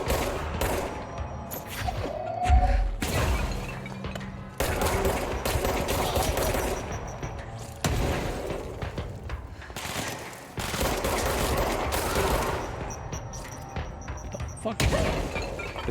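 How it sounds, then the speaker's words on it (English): Grenade blasts from an enemy in the sci-fi action game Control, heavy booming thuds and crashes mixed with gunfire in loud bursts separated by brief pauses, with someone talking between them. "This guy has goddamn grenades."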